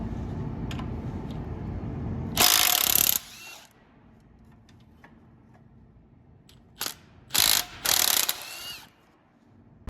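Ratchet wrench working on alternator bolts of a Chevy LS engine, quiet clicking and handling noises broken by a few loud, close bursts of rapid ratcheting.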